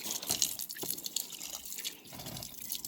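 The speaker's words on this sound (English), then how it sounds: "so just giving it some water" Water poured onto the soil of a potted peppermint plant, a steady trickling and dripping splash that runs continuously for a few seconds, close by, with no talk.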